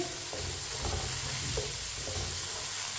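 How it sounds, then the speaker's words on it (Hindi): Fresh peas and vegetables stirred with a spoon while cooking in a pot for vegetable pulao, a constant close sizzling hiss with soft scraping strokes of the spoon underneath. "इसे ऐसे ही चम्मच चलाते हुए 2 मिनट के लिए पका लेंगे।"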